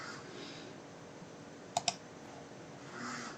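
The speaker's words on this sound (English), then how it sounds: "Click on line." Two quick, close mouse clicks in Revit drafting software, crisp and distinct against a soft steady room hiss.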